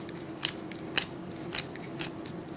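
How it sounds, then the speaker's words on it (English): Exploding Kittens game cards shuffled by hand, heard as four short crisp riffling bursts spaced about half a second apart over a steady low background hum. "You simply shuffle the draw pile."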